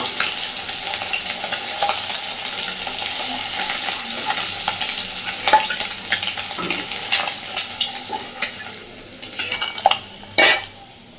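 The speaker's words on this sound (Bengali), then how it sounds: "এই একইভাবে বাকি মাছটাও আমি ভেজে নেব।" Fish fries in oil in a wok with a steady crackling sizzle, interrupted by scraping utensil clinks, a burst of running water and a few sharp knocks toward the end.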